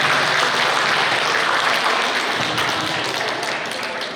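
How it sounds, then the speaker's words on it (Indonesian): An audience at an Indonesian district stunting-prevention event applauds two presenters, Bantul and Pocong Sumur, in a dense burst of clapping that slowly fades. "Tepuk tangan untuk Bantul dan Pocong Sumur."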